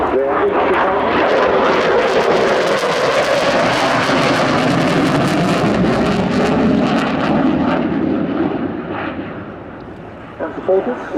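RAF BAE Systems Typhoon FGR4 jet performing a flying display at RIAT 2025, a loud, rumbling jet roar that surges and sweeps past, then fades toward the end, with an announcer speaking over it.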